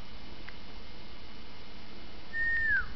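Riccolo, a bird, produces one clear sweeping whistle near the end, close and moderately loud, preceded by a couple of faint ticks in an otherwise quiet indoor setting.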